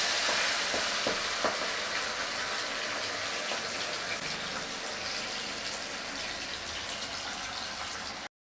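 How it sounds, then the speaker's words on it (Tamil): Fish frying in hot oil in a home kitchen, a dense continuous sizzle and crackle that stays loud and close throughout, with a few sharper pops early on before cutting off abruptly. "நல்லாவே மீன் பொரிஞ்சு வந்தது"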